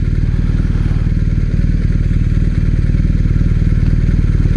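BMW R1250RS motorcycle riding through the city, its boxer engine thrumming in a steady, loud, even pulse with constant road and wind noise and no talk.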